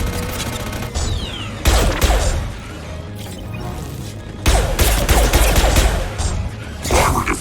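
Bursts of gunfire and impacts in the video game Mass Effect 2 during a firefight, with loud volleys of shots at about 1.7 and 4.5 seconds amid a steady combat din.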